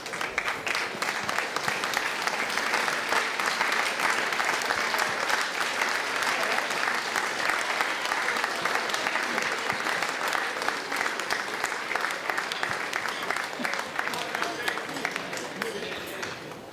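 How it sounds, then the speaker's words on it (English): An audience at a company's 50th anniversary event applauds employees in a sustained round of dense clapping that fills the room, steady and loud, tapering slightly at the end. "stand up so that we can applaud your efforts"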